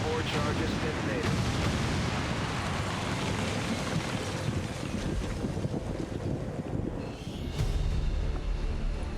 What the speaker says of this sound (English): X4 charges detonated.